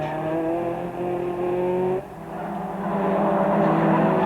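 Touring cars race flat out at Thruxton in the 1989 British Touring Car Championship, a loud sustained turbocharged engine whine with a brief dip as it shifts gear, then a rising roar.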